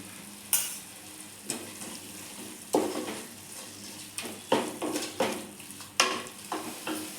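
Ground masala paste for plain biryani sizzles and fries in a pan, with a steady hiss broken by repeated sharp scraping stirs and spoon clinks close by, no talking.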